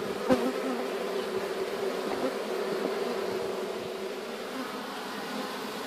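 Honey bees buzz around an apiary hive frame in a dense, continuous drone, steady and close with no other sounds.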